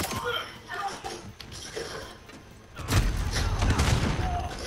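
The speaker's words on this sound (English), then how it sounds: "Just spawned right in my cluster strike" Cluster strike explosions in a Modern Warfare match on the Shipment map, first a few scattered blasts, then a loud dense burst of rumbling booms in the latter half.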